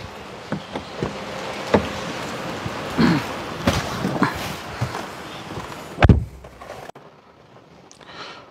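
Rain falls outdoors in Salaya, Thailand: a steady broadband hiss broken by footsteps and other scattered knocks and thumps, then a sudden quieter stretch near the end.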